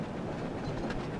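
Train running in a Thomas the Tank Engine video game, a steady rumbling rail sound with faint clickety-clack, even and continuous throughout, with no talking.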